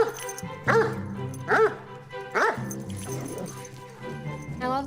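Zeus, a huge, giant-sized dog, lets out several close, loud whining yips and whimpers in a rhythmic series, with a voice speaking faintly alongside.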